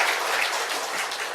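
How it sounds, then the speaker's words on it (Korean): Steady, dense applause from a lecture audience, even and sustained throughout with no pauses. "박수 한번 크게"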